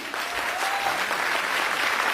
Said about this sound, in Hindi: मैं चाहूंगी कल के लिए जोरदार तालियां होनी चाहिए